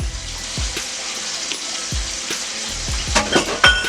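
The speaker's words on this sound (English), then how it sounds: "right away I'm going to add my onion" Chopped onion hitting hot searing grease in an electric pressure cooker, loud close sizzling with sharp spatters and crackles, some scraping and stirring clatter, no talking.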